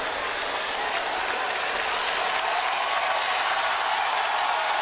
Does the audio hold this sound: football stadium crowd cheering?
yes